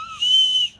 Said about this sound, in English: I think it's a whistle.